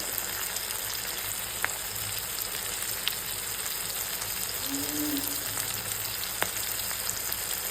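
Spices and young jackfruit sauté in a pan, giving a quiet, steady sizzle with a few faint clicks and one brief stir scrape.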